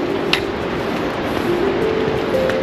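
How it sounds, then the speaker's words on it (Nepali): A mountain river rushing in the valley below a trekking trail on the way to Annapurna Base Camp in Nepal, making a steady, broad roar of flowing water with no pauses. "खोलाको आवाज हो"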